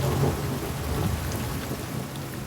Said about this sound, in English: The rain can be incessant, bringing not just cold,